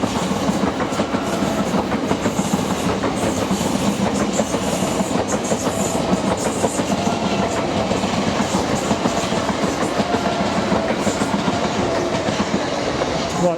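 A train rolls into a station on a railway excursion to Brighton, with rhythmic clickety-clack of wheels over rail joints, a continuous loud rumble that stays steady throughout.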